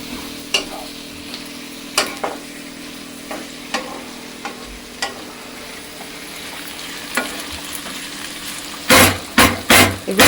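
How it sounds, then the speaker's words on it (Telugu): Onions frying over a high flame in a pan, a steady close sizzle broken by regular scraping stirs, with a burst of louder, denser stirring near the end. "ఇవి ఆనియన్స్ హై ఫ్లేమ్లోనే ఫ్రై చేసుకోవాలి"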